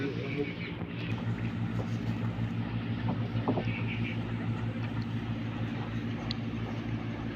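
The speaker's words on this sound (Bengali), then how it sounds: "জাহাজ একদম আমাদের নৌকোর কাছ থেকে যাচ্ছে" A large ship passes close beside a small fishing boat at sea, a steady low engine drone under wind buffeting, with people talking over it.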